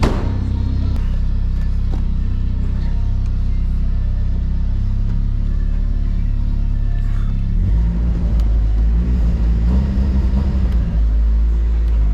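A car engine runs steadily while driving, a loud low rumble throughout that grows heavier and rougher near the end, as if accelerating.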